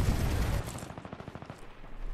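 Rapid automatic gunfire from a weapon in the shooter Titanfall 2, a quick run of sharp, evenly spaced shots following a louder opening blast, close and unaccompanied by speech.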